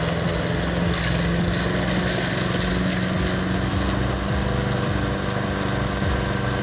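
Husqvarna LC348V lawn mower fitted with a swapped Honda engine, running at a steady drone with dense low vibration and a constant busy whir, close and unbroken.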